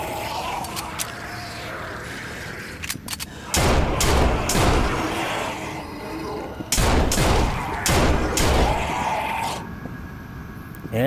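Zombie soldiers open fire in the VR shooter Army Zombie VR: loud, dense bursts of gunfire with a booming crack, the heaviest volleys around the middle and near the end, over a steady background rumble.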